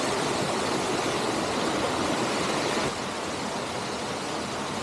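Tall waterfall near natural pools in Iapmala village, a constant loud rushing roar of falling water with no other sounds.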